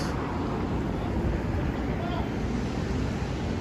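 Strong wind on a windy night beside the West Side Highway in New York City, a dense, steady roar that buffets the microphone without pause.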